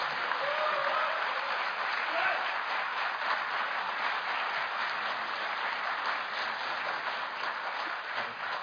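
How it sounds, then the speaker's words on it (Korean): Sustained applause from a seated audience at a political forum with several candidates present, steady clapping running throughout with no voices on top. "힘찬 박수 부탁드리겠습니다."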